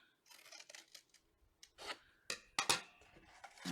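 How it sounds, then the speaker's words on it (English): Scissors snip along a score line in papercraft cardstock to split it into two tabs. Quiet, close cuts come in short bursts, with a few sharper, louder snips near the end. "So go ahead and cut up that score line there to make it into 2 different tabs."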